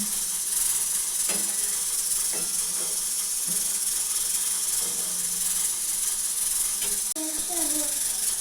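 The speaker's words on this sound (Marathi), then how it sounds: "हे बघा कसं उकळू द्यायचं छान" A pot of pigeon pea curry boiling steadily, giving off a constant close hiss with faint bubbling. A voice talks briefly over it near the end.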